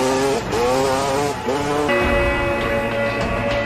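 A dirt bike engine screams at high revs, loud and close, its whining pitch rising and shifting in a couple of surges against a busy background, amid the chase of a zombie film.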